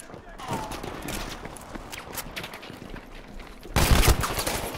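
Tommy gun fire in a shooter video game, with rapid bursts of automatic shots, the loudest burst near the end, and a voice talking over the action.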